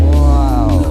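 A Honda HR-V with its exhaust switched by remote into racing mode gives a short, loud, close-up rev, a deep throaty engine roar that swells in pitch for under a second.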